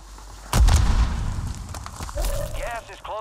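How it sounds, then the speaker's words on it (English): Grenade explosion in the Warzone video game, a sudden loud, close boom with a rumbling tail, followed by someone talking over fading game sounds. "Grenade out."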